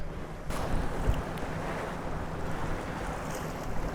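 Wind blowing on a small fishing boat trolling shallow water for walleye, a steady, close rumbling buffet on the microphone with rushing air and water beneath, continuous and fairly loud, with no talk.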